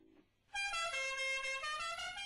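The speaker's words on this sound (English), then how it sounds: "I've got some air horns that play the Dukes of Hazzard's theme," A vehicle's musical air horns blare a Dixie-style tune, bright and loud, starting abruptly after a brief quiet lead-in and holding a continuous melodic run.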